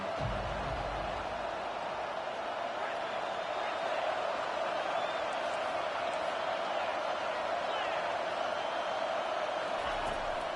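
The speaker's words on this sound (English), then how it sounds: "decibels rising as the crowd gets behind this defense on 3rd down" A home stadium crowd at a Kansas State vs Iowa college football game roars on a third-down defensive stand, a dense, steady wall of loud cheering that swells and holds throughout.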